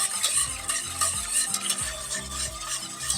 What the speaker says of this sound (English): So whisk in between each time you add a little bit.